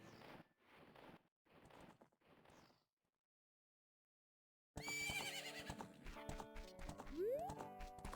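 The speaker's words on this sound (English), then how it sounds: "Horse." After a silent pause, the horse Epona whinnies loudly over rapid clip-clopping hooves at night in Hyrule Field in The Legend of Zelda: Ocarina of Time, with a rising synthetic tone near the end.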